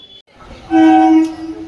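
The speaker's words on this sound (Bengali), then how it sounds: "এখন ক্যানিংয়ে যাওয়ার ট্রেন এসে গিয়েছে" A train bound for Canning pulling into a railway platform sounds one loud, sustained horn blast over a low rumble, heard nearby with no talking.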